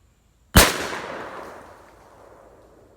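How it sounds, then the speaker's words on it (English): A single loud 20-gauge shotgun blast from a Franchi Affinity firing buckshot at a 40-yard target, with a sharp report that decays into a long, fading echo and no talk. "I'm going to shoot at 40 yards with the same buckshot"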